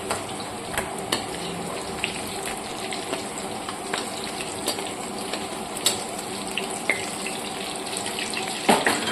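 Eggs fry in hot oil in a pan, a steady, close crackling sizzle with scattered sharp pops and spatters, continuous and unaccompanied by voices throughout.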